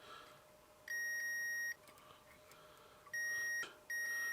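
A multimeter beeps on continuity while testing the alternator stator windings of a Lotus Elan M100, giving three clean, steady tones, the first and last longer and a short one between, over a faint room hum.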